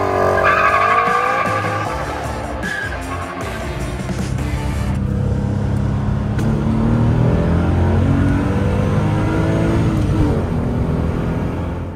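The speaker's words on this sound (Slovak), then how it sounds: "počujete tie autá, ako zrýchľujú tie M5-ky, 850 CSI" A BMW M5 and an 850 CSi from the 1990s accelerate hard in a drag race, with loud, sustained engine roar rising through the gears and brief tire squeal, close and continuous.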